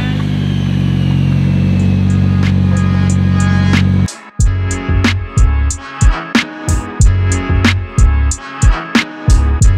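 S chassis project car engine held at full revs for about four seconds, then bouncing off the rev limiter in a rapid stutter of sharp cuts, loud and close.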